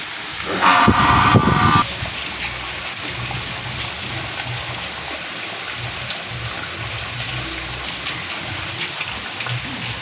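Continuous wash of heavy cyclone rain falling, with a louder gush of water for the first couple of seconds before settling into a steady patter.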